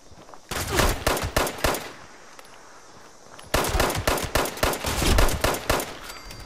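Rapid automatic gunfire from Fallout 76 comes in two loud, sustained bursts of quick, sharp shots, separated by a short lull of quieter background.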